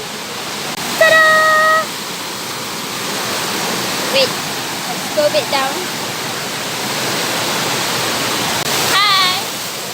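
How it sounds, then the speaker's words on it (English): Steady broadband rush of a waterfall at Bukit Wawasan, reached after a mountain climb, filling the whole scene at close range while people speak briefly over it. "we finally arrived at the waterfall"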